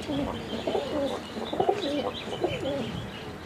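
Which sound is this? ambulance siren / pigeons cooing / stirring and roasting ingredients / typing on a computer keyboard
pigeons cooing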